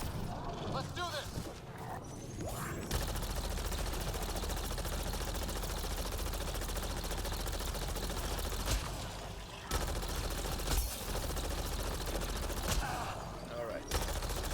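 Sustained rapid gunfire from a weapon in the video game Mass Effect Andromeda, loud continuous automatic bursts lasting most of the stretch with brief pauses between volleys.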